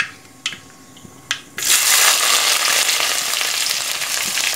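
Onions and slit green chillies hit hot oil with mustard seeds in a pan, bursting into a loud, steady sizzle after a couple of soft clicks, frying continuously close up with no talk.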